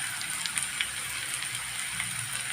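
Onions fry with bay leaves and dried chillies in hot oil, giving a steady close sizzle and crackle with no talk.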